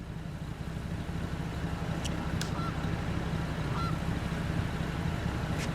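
Canada geese flying overhead give a few scattered honks, faint and distant, over a steady background wash of noise.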